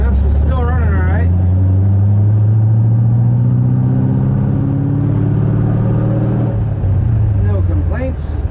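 A 1964 Ford F100 pickup engine drones steadily while driving, its low hum rising slowly in pitch as it accelerates, with a brief rev at the start and near the end, loud and close.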